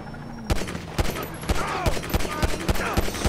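Gunfire in the LSPDFR police mod, with sharp, loud shots cracking at a steady rhythm about every third of a second, around ten reports in a row with ringing tails between them.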